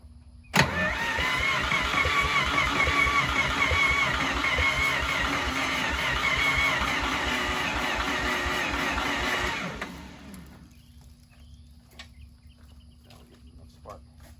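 An off-road forklift engine cranks and catches, then runs loud and steady for about nine seconds before cutting out to a quieter background with scattered faint knocks.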